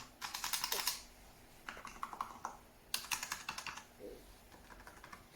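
Rapid clacking of Microsoft wireless keyboard keys in bursts with short pauses, close and fairly quiet, with heavier thuds from larger keys.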